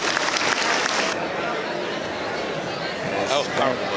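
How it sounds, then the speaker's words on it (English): An audience at a high school Decision Day keynote gives a round of applause, strongest at the start, then continuing as a softer wash under a voice speaking. "Can you give him another round of applause here?"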